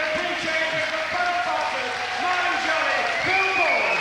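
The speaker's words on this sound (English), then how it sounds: "Crowd on its feet. Absolutely standing ovation." A boxing crowd gives a standing ovation after the fight, with dense, loud, sustained applause filling the arena while a commentator talks over it close up.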